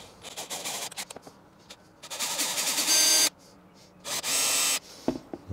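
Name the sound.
pre-drilling with a small drill bit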